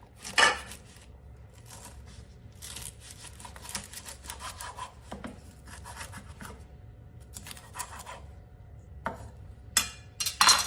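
Repeated knife strokes on a cutting board cutting food into chunks for salmon head tom yum soup, irregular bursts of chopping with brief pauses between, fairly close, no talking.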